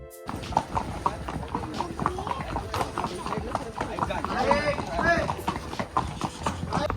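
Horses walk along a path at Matheran, their hooves clip-clopping in a steady rhythm at close range beneath continuous talking from people nearby.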